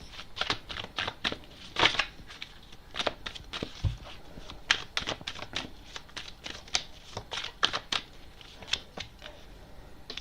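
Tarot cards being gathered and shuffled by hand: a steady run of crisp riffling slaps and flutters across the whole stretch, close and moderately loud, with no talking.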